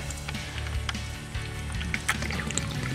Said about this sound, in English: Open that up, let the water drain out.